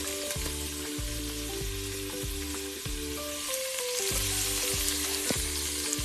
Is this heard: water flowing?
no